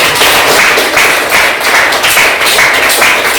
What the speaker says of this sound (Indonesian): Oke, sekali lagi tepuk tangannya.